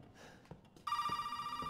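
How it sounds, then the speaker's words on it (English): A telephone in the Resident Evil 7 video game starts ringing abruptly after a near-silent moment, with a steady, bright electronic ring continuing to the end. "the phone is ringing"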